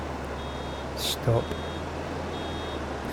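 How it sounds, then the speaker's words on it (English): Farming Simulator 22 grass wagon nearing full sounds a thin, high warning beep in spaced, repeating pulses over a steady low machine hum, with a brief spoken word and a short burst of louder noise midway. "Start to beep, that's it, almost full."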